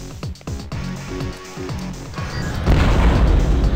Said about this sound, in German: Explosionen, die mich begrüßen, machen mich in jedem Fall etwas stutzig.